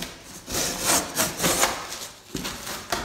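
A Spyderco PM2 knife in K390 steel, with a convex regrind, slices through cardboard in repeated rasping strokes with short pauses between them, close up and with no talking.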